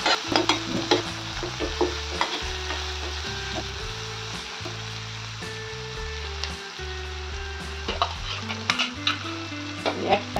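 Wheat flour with salt, turmeric and red chilli powder being roasted and stirred in a pan, a continuous sizzle with repeated scraping strokes and a few light clinks, close and steady throughout.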